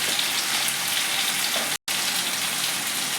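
Ginger paste, green chili paste, Kashmiri chili powder and turmeric fry in a pan as a steady, close, dense sizzle, with a single brief dropout midway and no speech.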